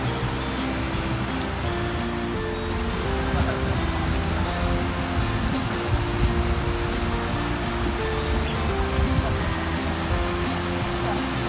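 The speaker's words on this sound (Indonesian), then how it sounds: "ada air sungai mengalir" A river flows beside a riverside retreat in Penampang, Sabah, with a steady, broad rushing wash that holds evenly the whole time, and faint voices mixed in.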